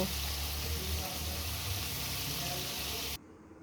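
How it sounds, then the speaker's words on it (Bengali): Dense, steady hiss of chicken frying in hot oil, close and constant, cutting off abruptly near the end. "দেখো ধীরে ধীরে ভাজছি"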